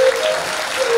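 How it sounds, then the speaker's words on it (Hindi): An audience claps at a Bhagavad Gita launch program, a brief dense burst of applause at steady loudness. "आपकी ताली में दम नहीं है"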